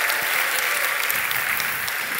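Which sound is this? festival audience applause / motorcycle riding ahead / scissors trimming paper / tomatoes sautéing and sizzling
festival audience applause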